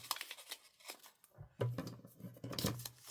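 Black paper cut in half with scissors while building a paper robot, a few close snipping and crisp paper rustles with a pause, then a fuller cut and handling, quiet and without talk.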